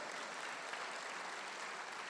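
Applause from a church congregation during a Christian sermon, steady dense clapping filling the whole stretch at moderate level, with no voice over it.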